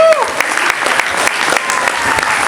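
An audience at a Maharashtra public event breaks into loud, dense clapping that holds steady throughout, a continuous wash of many hands with no gaps.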